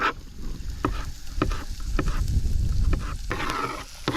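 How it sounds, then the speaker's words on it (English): Food sizzles steadily in a pan set over a campfire in remote Australia, a constant crackling hiss with periodic scraping stirs and clinks, close and fairly loud, with no talking. "that's starting to sizzle away"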